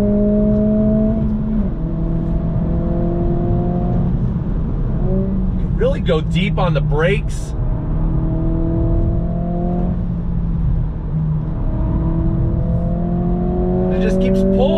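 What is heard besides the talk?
2023 Acura Integra engine accelerating to red line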